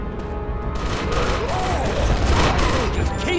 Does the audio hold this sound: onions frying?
no